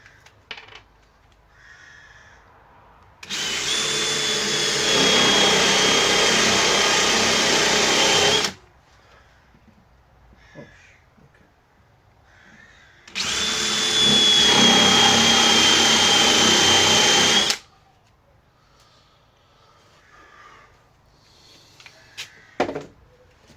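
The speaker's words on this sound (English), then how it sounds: "again, start with the biggest drill because I'll be putting the big washers." A power drill with the largest bit bores holes in two loud, steady whining bursts of about five seconds each, separated by quiet pauses with faint handling noise.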